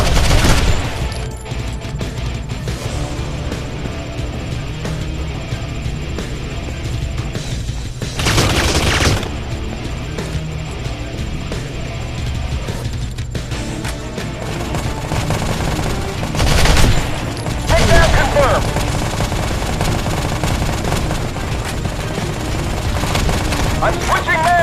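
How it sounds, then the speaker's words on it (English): Gunfire in the shooter game Modern Combat 3, with loud, dense bursts of automatic fire and booms continuing throughout and heavier blasts in a few spots, mixed with shouted in-game voices. "We're taking fire!"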